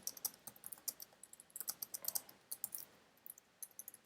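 Quiet, close typing on a computer keyboard, a quick run of light irregular key clicks with brief pauses, alone without talk.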